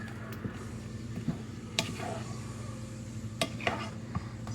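Thickening cherry filling stirred in a pot, soft scraping and occasional light clinks of a utensil against the pot, faint and close over a low steady background hum.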